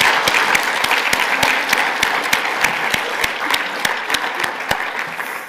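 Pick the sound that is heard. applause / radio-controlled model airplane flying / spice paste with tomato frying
applause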